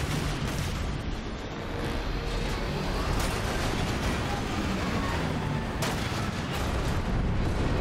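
Turret fire in the video game Transformers War for Cybertron, a continuous roaring barrage of heavy booms and blasts mixed with battle noise, loud and dense throughout.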